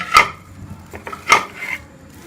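Green chillies and vinegar are stirred together for a pickle, giving a few bright clinks and scrapes of a utensil against a bowl, spaced irregularly with softer rubbing in between.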